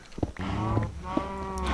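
Minecraft cows moo on a 12 by 12 cow farm: several drawn-out, low, droning calls overlap and follow each other closely, fairly loud and steady throughout.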